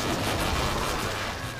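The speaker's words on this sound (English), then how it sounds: "Oh, we destroyed the TV!" A TV being smashed in the video game Ghost Master, a loud, dense burst of crashing, rumbling noise that fades slightly toward the end.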